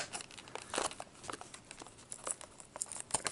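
Close, quiet crinkling and tearing of cardboard and plastic packaging as a German-exclusive toy car box from Matchbox, Majorette or Siku is cut open, in a series of short irregular scrapes and snips with no talking.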